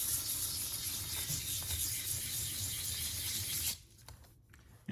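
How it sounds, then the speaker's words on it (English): A metal casting is rubbed by hand across a sheet of used flat sandpaper, giving a raspy, rhythmic scraping that holds steady at close range before stopping abruptly near the end. "Trying to get even wear on the sandpaper that's actually already been used a bit."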